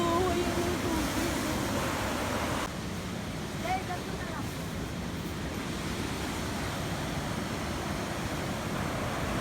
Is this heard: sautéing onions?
no